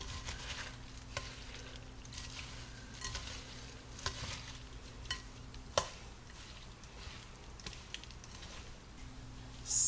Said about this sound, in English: we're just going to take some tongs and we're going to mix everything together